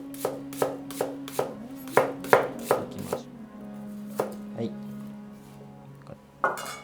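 Onion being sliced thinly with a knife on a cutting board, a quick run of sharp even chops followed by a few slower, spaced cuts, close and clear.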